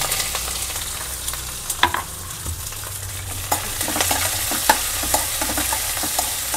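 Green chillies and onion frying in a pan for South Indian raw mango chitranna, a loud continuous sizzle with scraping stirs and occasional clinks of the spatula, close up with no talking.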